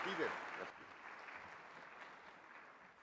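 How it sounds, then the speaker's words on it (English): Soft, distant applause from a conference audience after a women-in-leadership panel, a brief burst of clapping that thins into a faint, steady wash of hands. "A huge round of applause for them."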